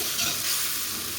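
Tomato paste with cashews, cumin and coriander being sautéed in a pan for potato curry (aloor dum), giving a steady, close, continuous sizzle with faint stirring and no talk.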